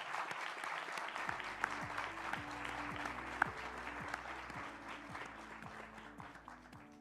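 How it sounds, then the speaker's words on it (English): An audience at a leaders' stage session on community resilience applauds to welcome speakers, a soft, steady wash of many hands clapping heard at a distance under faint tonal background music. "Let's give them a round of applause."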